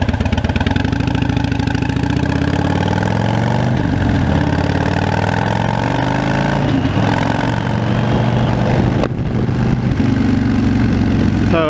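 A Harley-Davidson Fat Bob motorcycle runs through Freedom exhaust pipes with DK Custom inserts, giving a loud, continuous deep rumble that rises and falls with the throttle on a short ride, several rev swells and a brief dip near the end.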